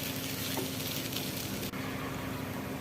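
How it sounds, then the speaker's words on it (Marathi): Onion, ginger-garlic paste and curry leaves frying in a pan, a constant dense hiss of sizzling oil with one brief knock partway through, no talking. "तो आता आपण छान फ्राय करून घेऊया."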